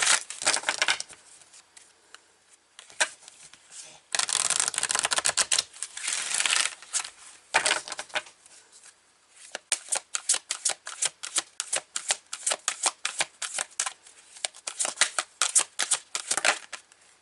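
A deck of Power to Surrender oracle cards is shuffled close up, loud riffling bursts alternating with rapid flicking clicks and rhythmic card slaps, with no talking.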